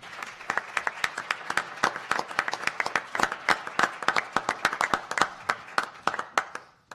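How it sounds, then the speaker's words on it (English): Audience applause at the close of a talk on the future of music, a steady burst of hand clapping from a room full of people that holds for several seconds and then thins out toward the end. "I just applauded for myself"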